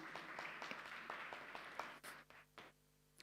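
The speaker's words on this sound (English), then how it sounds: "A round of applause for Mr." A faint round of applause rises for Mr. Keith Duncan at the launch of a laptop and tablet initiative, a soft spread of distant clapping that breaks up and fades out within a few seconds.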